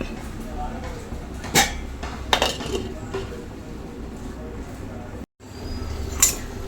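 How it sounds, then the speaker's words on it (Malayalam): A metal lid set onto a cooking pot of clam meat curry, with a few sharp pan clinks spaced over several seconds against low kitchen background and some talk. "അടച്ചു വയ്ക്കാം"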